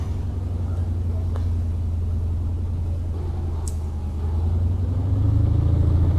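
A car driven in the BeamNG driving simulator, with a steady low engine rumble close by that grows louder as it accelerates toward the end, with a voice speaking over it.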